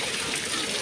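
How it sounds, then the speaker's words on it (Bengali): Water falling into the fountain at Piazza di Spagna in Rome, heard as a steady close splashing rush with no pauses. "দেখছেন, এই যে পানি পড়তেছে"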